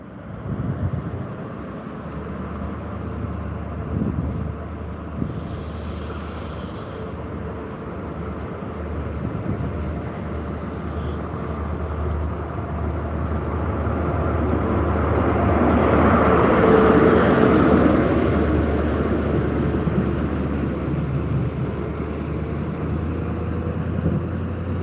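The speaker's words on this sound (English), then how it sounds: "I'm going to shut up now so you can hear the train pulling away." A train pulls away from the platform at Monifieth station, a low rumbling engine drone that gradually swells and peaks before easing slightly, with wind noise and a brief distant tone partway through.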